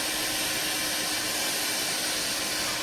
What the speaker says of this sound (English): I got this vacuum set up to capture the dust